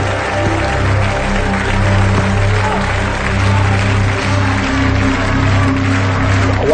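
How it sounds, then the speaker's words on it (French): Audience on a French TV show applauding: loud, steady, continuous clapping from a large crowd, sustained without a break, with a faint low musical hum underneath. "Applaudissements, mesdames, messieurs, s'il vous plaît."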